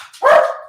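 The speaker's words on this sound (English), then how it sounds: "My dog. You hear that?" A dog lets out a single loud, close bark after a brief soft lead-in, the sound trailing off over under a second with no talking.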